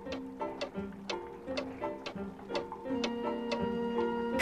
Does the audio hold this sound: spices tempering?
no